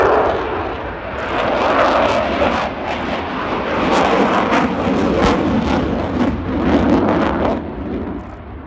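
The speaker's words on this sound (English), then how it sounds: "this is of course an aircraft that is on daily active service operations" A Eurofighter Typhoon jet roars loudly through a flying display at Cosford Airshow, with its engine noise swelling and pulsing as it passes close overhead, then easing slightly at the end.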